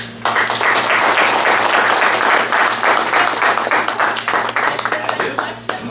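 A crowd at a school district event applauds loudly, with thick continuous clapping that swells quickly and then thins into scattered claps near the end.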